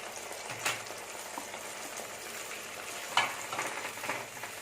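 Ground masala frying with tomatoes in a pan, a low, moderate sizzle with a couple of sharper scrapes and knocks from the stirring spoon, near and without talking.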